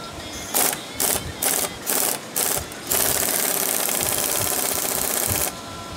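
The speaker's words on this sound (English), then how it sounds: "Tighten the lower spring plate bolt and the back bolt to the lower control arm." A ratchet tightens suspension bolts on a Mercedes CLS 500 during a rear suspension conversion install. Six short, evenly spaced bursts of close clicking are followed by a longer continuous stretch of ratcheting, with no talk.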